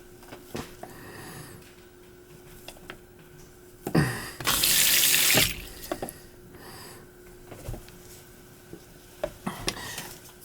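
A kitchen faucet that leaks when running is turned on for about a second and a half, gushing loudly and close, then shut off, with faint clatter and tapping around it.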